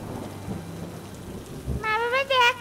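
Rain pours steadily in an animated cartoon, and a low thunder rumble rolls underneath. Near the end, a high, wavering tonal cry rises over the downpour.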